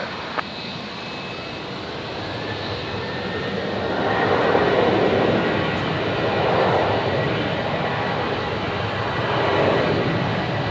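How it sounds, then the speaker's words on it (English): A Virgin Australia jet taking off at Brisbane Airport, heard as a distant, broad engine roar that swells and lingers steadily over several seconds. "all the Virgin's taking off all at the same time"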